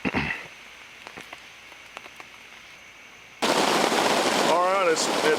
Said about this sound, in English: It's picked up raining pretty good now.